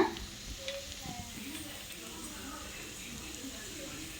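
Broad beans, potato and cabbage sauté in oil over a low flame for a mixed poriyal. Soft, faint sizzling continues throughout, with occasional stirring scrapes in the pan.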